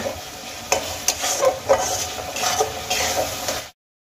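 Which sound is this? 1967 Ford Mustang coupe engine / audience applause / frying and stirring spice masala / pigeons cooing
frying and stirring spice masala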